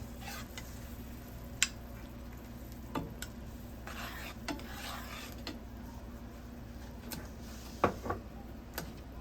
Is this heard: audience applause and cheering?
no